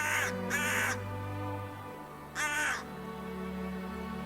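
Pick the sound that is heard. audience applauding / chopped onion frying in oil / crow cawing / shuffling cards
crow cawing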